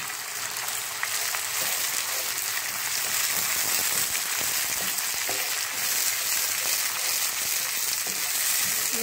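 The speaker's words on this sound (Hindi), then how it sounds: "ये हमारे टमाटर और मसाला सारा अच्छा सा भुन रहा है।" Chopped tomatoes and masala fry in a pan, giving a continuous, even sizzle with faint crackles throughout and no pauses.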